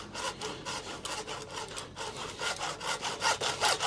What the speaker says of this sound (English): The hacksaw's bloody beauty. Done the job.